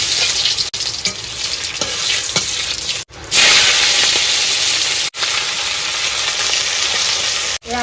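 Cumin seeds and dried red chillies sizzle loudly in hot oil in a frying pan in a Sundarban village kitchen, a steady close crackle with a sharper, louder burst near the middle and brief stirring scrapes.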